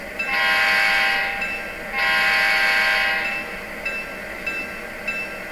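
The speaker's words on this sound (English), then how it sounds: "now when we blow our air horn" Two long blasts of a Blunami-equipped model train air horn sound loud and close, followed by a fainter steady hum with a few small clicks.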